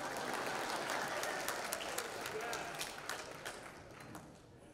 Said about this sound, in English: are you clapping because I'm old?